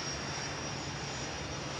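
A Sud Aviation Caravelle SE 210 jet airliner in cold-weather trials in Sweden gives off a steady, dense engine roar, broadband and continuous, with no voices.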